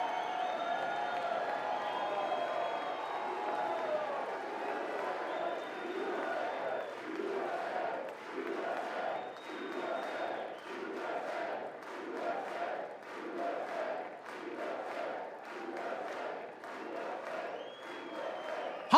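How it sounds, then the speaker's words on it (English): A large audience at a State of the Union address applauds and cheers for the US men's gold medal Olympic hockey team, rhythmic chanting and clapping swelling in waves, moderately distant, with shouted voices mixed in. "How can people not stand and clap for Team USA?"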